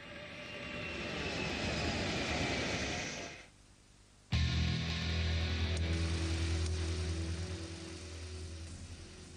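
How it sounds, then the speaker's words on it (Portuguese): Lockheed U-2 spy plane engine roaring loud and steady, cutting out briefly to a near-silent gap before resuming with a deep, droning low rumble. "o avião espião"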